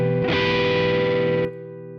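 An electric guitar run through an Ableton amp simulation with drive tone gives a single sustained, loud, distorted chord that rings steadily for over a second before dropping to a quieter decaying tail.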